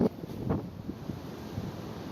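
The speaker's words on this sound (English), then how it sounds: "It's kind of windy." Strong wind buffeting outdoors at the top of a staircase, a steady low rushing roar with gusty thumps on the microphone, no voices.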